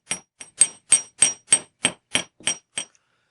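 A hammer strikes a silver wire earring arc resting on a steel block, ten sharp metallic taps in a steady rhythm, close and clear with silence between blows.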